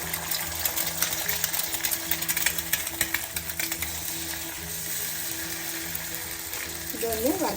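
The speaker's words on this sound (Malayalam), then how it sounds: "അതിന് നമുക്ക് മുട്ട വറുത്തെടുക്കാം." Eggs fry in oil in a pan with a steady hiss and crackle, accompanied by a ticking, ratcheting background rhythm, close by; a voice is faintly present near the end.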